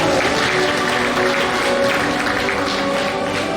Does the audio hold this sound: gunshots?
no